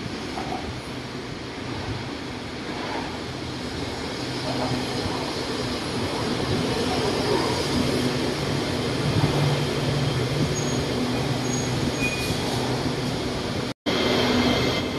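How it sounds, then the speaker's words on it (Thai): A Red Line electric commuter train rumbles and hums steadily, growing a little louder as it pulls away from Taling Chan station, Thailand, with a brief dropout near the end. "ตอนนี้รถไฟฟ้าสายสีแดงก็วิ่งออกไปเป็นที่เรียบร้อยแล้วนะฮะ"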